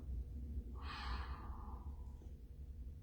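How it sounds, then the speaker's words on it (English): A slow, steady exhale during breath work, a soft airy rush that swells and then fades over about a second and a half, heard close against a low background hum. "now take a nice exhale"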